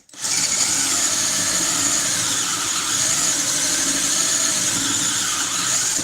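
A power drill whines continuously and loudly, a high steady screech as the bit bores into material, running without pause.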